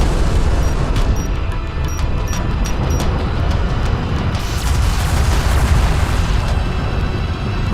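Explosions in the real-time strategy game Deserts of Kharak as an enemy salvager vehicle is destroyed, a dense loud rumbling blast with crackling bursts that holds steady for several seconds.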